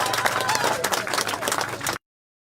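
A crowd claps at an MP's event in Kiharo constituency, giving dense, continuous applause with scattered cheering voices for about two seconds before cutting off abruptly to silence.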